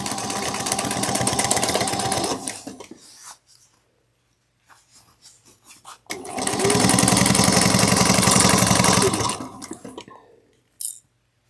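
A sewing machine stitches a seam on a fabric tablet clutch in two loud, fast, whirring bursts, the first about three seconds and the second around four, separated by a quiet pause with faint fabric handling, close up.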